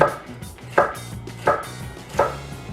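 Sharp knife chopping vegetables for a thin-crust veggie pizza, four crisp, evenly spaced cuts against a board, close and clear with no talking.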